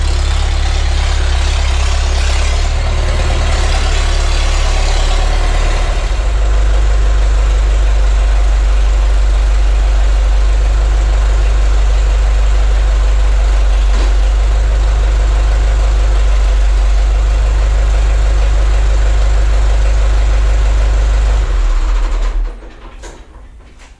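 A tractor engine idles close by while a generator is being set up for wheel installation, a steady low diesel rumble running unbroken for about twenty seconds before it abruptly cuts off near the end.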